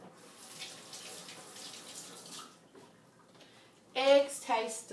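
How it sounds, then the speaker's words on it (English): Tap water runs into a kitchen sink as an egg is rinsed, a soft steady flow that fades midway, then a louder burst of splashing near the end. "Let me rinse this egg."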